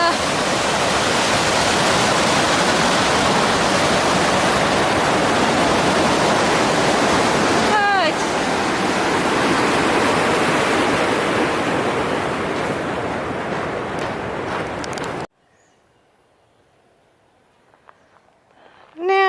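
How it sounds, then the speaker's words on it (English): Water rushing down a channel as a waterfall along a lakeside hiking trail, a loud, steady roar close by that cuts off abruptly after about fifteen seconds, leaving near silence. "Then all the water's getting channeled down there."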